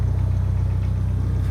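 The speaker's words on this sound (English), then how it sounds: "Doesn't sound great. It's a high-pitched motor, man." Chevy Sonic RS engine running after break-in, a steady, loud, close mechanical drone with an even pulsing beat throughout and no talking.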